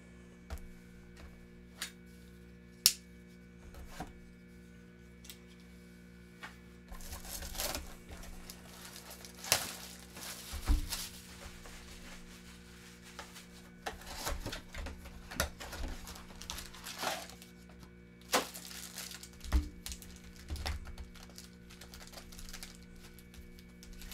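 Boxes of Monarch trading cards being shuffled, giving soft scattered crinkles, taps and rustling clicks that come in uneven bursts, quiet and close, with no talk.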